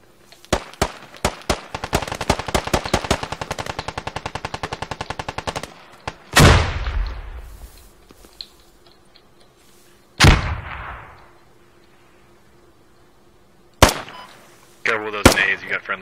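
Gunfire in the military shooter game Squad: a fast rattling burst of automatic fire, then heavy single booms echoing out and scattered loud shots, with players talking over the combat.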